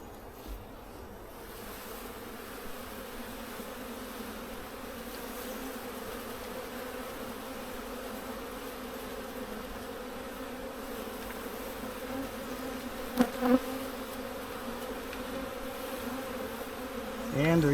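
Honey bees buzz steadily around hive frames while queen cells are installed into mating nucs, a dense droning hum that lasts throughout, with a couple of brief louder knocks near the end.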